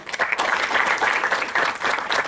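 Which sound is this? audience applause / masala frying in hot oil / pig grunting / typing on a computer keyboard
audience applause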